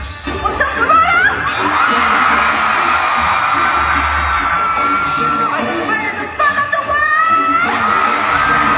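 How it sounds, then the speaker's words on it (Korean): Stadium crowd of Toronto fans cheering and screaming at a concert, a loud continuous roar with shrill yells rising above it throughout. "토론토 팬들의 환호성이 스타디움을 가득 채웠는데요"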